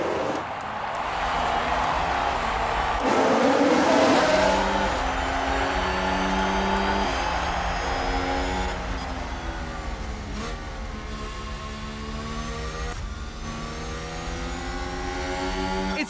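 Formula 1 cars launch off the grid at the start of the Japanese Grand Prix in F1 Manager 2022, a loud layered roar of many engines revving and rising in pitch together, sustained for several seconds with the sweep of passing cars.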